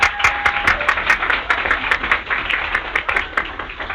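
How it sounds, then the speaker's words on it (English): Audience applause for the panelists at the close of a policy panel on epidemics of fear and hunger, a lively run of many hands clapping that stays dense and bright throughout. "Can we have a concluding round of applause for the panelists?"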